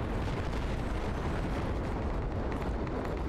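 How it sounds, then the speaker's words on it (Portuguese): Dense, continuous rumbling blasts from nearby explosions in the military shooter game Project Reality 2, a loud sustained roar filling the whole moment with no clear gaps. "Tá explodindo aqui do lado."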